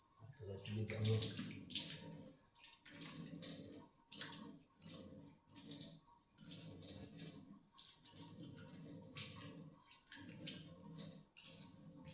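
Water runs from a tap in a home kitchen in a pulsing, uneven flow, splashing and gurgling at moderate volume with brief pauses and no talking.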